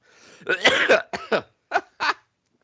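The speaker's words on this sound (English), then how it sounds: "You make me cough." A burst of harsh coughing, one long rough cough followed by several shorter, spaced coughs that trail off into silence.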